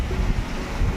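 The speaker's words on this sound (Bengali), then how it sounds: "ঝড়ের সাই সাই করে একটা আওয়াজ হচ্ছে" Gusting wind from Cyclone Remal roars steadily, a dense low rumbling rush with buffeting that swells and eases over a brief second, close and loud with no voices.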